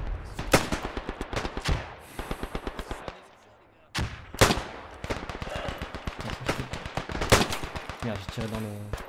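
Gunfire in the video game Beyond The Wire, rapid bursts of close, loud shots in rattling volleys, a brief lull, then more bursts, with a voice speaking at times.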